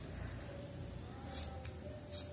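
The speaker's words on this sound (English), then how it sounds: "Keep on trimming until you get the round shape" Small scissors trimming a yarn pom-pom into a round shape, giving a few quick, soft snips over a quiet background.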